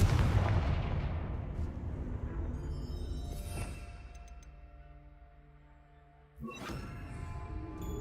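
A Confringo fire spell in Hogwarts Legacy bursts with a loud, booming blast that rolls off into a long fading tail, followed by a second sharp impact and ringing shimmer near the end.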